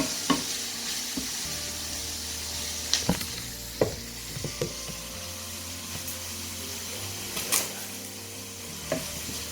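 Garlic and white onions fry in a white pan over medium heat for vegan mushroom risotto; a soft continuous sizzle with intermittent sharp scrapes and clinks of stirring, close by, without talk.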